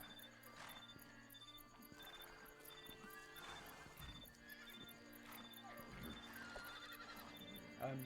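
A horse in the video game Haimrik neighs and whinnies while its hooves clip-clop steadily throughout, over a continuous busy game soundscape with a sharp louder burst right at the end.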